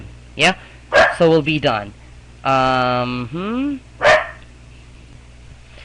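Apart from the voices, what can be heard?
dog barking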